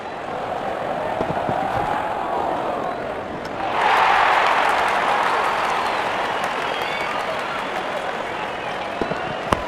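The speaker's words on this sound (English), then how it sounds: "The crowd is enjoying every bit of this action." Crowd cheering in a cricket video game, a broad, steady roar of a stadium audience that swells partway through and stays loud, with commentary running over it.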